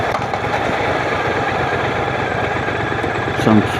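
A 1200cc motorcycle engine running steadily with a continuous low rumble and even vibration, close and loud, with a brief swell near the end.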